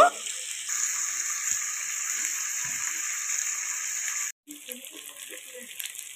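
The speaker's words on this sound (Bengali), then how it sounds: "আমি এইখানে সব ভাজা বসিয়ে দিয়েছি" Beans and mixed vegetables fry in a pan with a steady, even sizzle and hiss throughout, broken by a brief gap near the end before the frying sound resumes.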